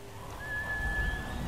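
A horse neighs in the video game Ghost of Tsushima, one drawn-out whinny with a thin, whistling tone rising clearly above a low ambient rumble.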